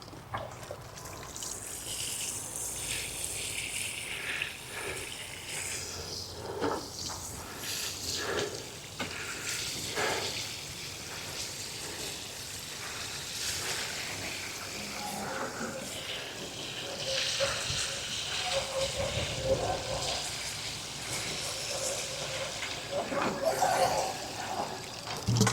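Garden plants being watered, a long soft trickle and splash of water onto foliage and soil that continues unevenly with shifting intensity, with occasional rustles and faint movement around it.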